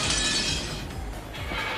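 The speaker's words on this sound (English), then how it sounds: "Mammon, Beelzebub, and Asmodeus smashed to pieces and rolled across the floor." Figures of Mammon, Beelzebub and Asmodeus smashing to pieces in the visual novel Umineko, a bright glassy shatter that bursts loudly at once and trails off into tinkling debris, heard alone without voices.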